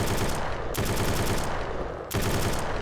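Sustained automatic gunfire in the zombie survival game SurrounDead, loud, dense rapid bursts with two short breaks between volleys.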